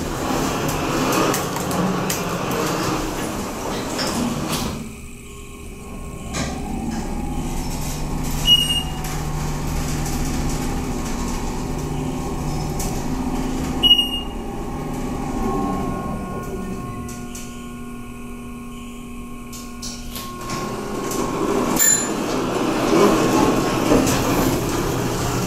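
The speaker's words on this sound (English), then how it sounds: "These are the elevators here at Nordstrom." Montgomery traction elevator at Nordstrom, Tysons Corner Center in McLean, Virginia, with doors sliding and a steady low motor hum during the ride, a couple of soft chimes or clunks partway through, and the doors opening again near the end.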